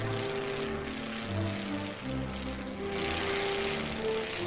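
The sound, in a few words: light military plane propeller engine flying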